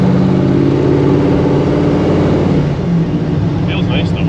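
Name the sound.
1955 Chevy Nomad Gasser engine while driving stick shift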